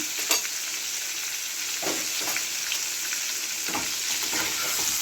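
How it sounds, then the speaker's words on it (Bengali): Papads frying in hot oil for a star fruit chutney, with a steady, close sizzle throughout and a few soft stirring scrapes breaking through. No voices. "পাঁপড়গুলো একদম ভালো করে ভেজে দিচ্ছি"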